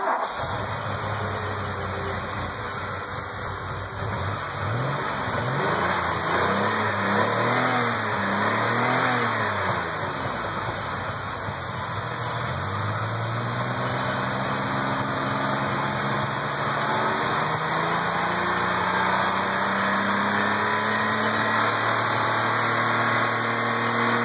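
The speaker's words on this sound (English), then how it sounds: "I'm going to show you guys exactly what my engine sounds like" A car engine runs steadily for about 24 seconds, swelling through several revs whose pitch climbs and falls before settling back toward idle. It is heard close and alone, with no talking.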